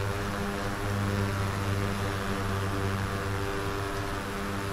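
Steady drone of the propeller engines on an IAI 201 Arava aircraft in the flight simulator game FSX, a constant loud cockpit hum running unbroken throughout with no talk.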